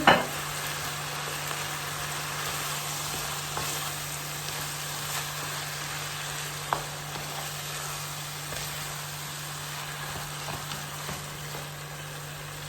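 Tomatoes and tomato paste cook in a pan as part of a chicken buğu kebab, giving a steady, even sizzle and hiss throughout, with a few faint clicks and no talking.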